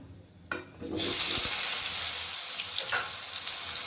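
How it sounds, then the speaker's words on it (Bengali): Diced potatoes go into hot oil tempered with cumin seeds and burst into a loud sizzle that quickly settles into a steady, close frying hiss, with a stir or two partway through. "এবার দিয়ে দেব ডুমো করে কেটে রাখা আলু"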